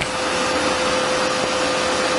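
A Harrison M400 lathe motor runs steadily with a loud, even broadband whir and a faint constant hum, close and unchanging throughout.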